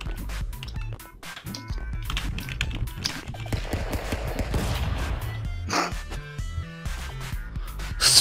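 Desert Eagle pistol shots in the Stick Fight game, a string of sharp percussive cracks and thumps scattered irregularly among busy game sounds and music-like tonal beeps.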